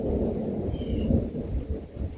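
Thunder from an approaching storm rolls as a continuous low, heavy rumble, fairly loud and sustained, with faint wind or rain noise underneath and no talking.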